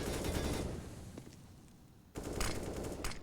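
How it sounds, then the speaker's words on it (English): Rapid automatic gunfire exchange in Counter-Strike on the Nuke map during an ESL Pro League match, loud dense bursts that pause briefly then resume sharply. "An exchange of bullets,"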